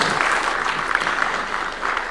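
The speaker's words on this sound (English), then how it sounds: "Round of applause for His Excellency one more time." An audience at a State House housing programme launch gives a brief, dense round of applause for the president, loud and steady throughout.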